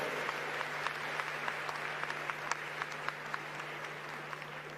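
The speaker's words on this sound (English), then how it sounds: "Let's give them a warmer round of applause." An audience at the Africa Climate Summit in KICC applauding, a steady, fairly distant round of clapping from a large crowd over a low hum.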